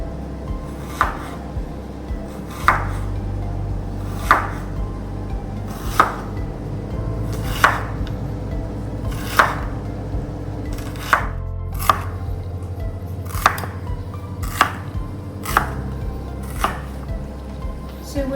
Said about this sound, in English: And then cut it in semicircles.